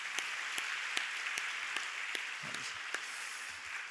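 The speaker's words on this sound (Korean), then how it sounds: "박수해줘요." A congregation claps at a Friday late-night church prayer meeting during a youth department presentation: dense, steady applause with sharp individual claps standing out, filling the hall without voices.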